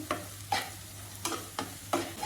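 Prawn malaikari gravy is stirred and sautéed in a pan, with a spoon scraping in a steady rhythm of about five strokes over a soft sizzle, close up with no talk.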